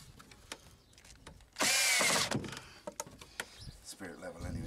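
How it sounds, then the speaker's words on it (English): A power drill drives a screw into a wooden roof beam while a chicken coop is being built, one loud whirring burst of about a second, close, followed by clattering and handling sounds. "now I'm screwing the roof beam into it"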